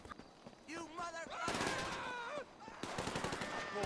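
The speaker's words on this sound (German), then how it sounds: "Okay, er beginnt direkt zu schießen." Rapid automatic gunfire in GTA V Online, bursts of dense cracking shots that grow louder and sustained, mixed with game music tones and someone talking over the action.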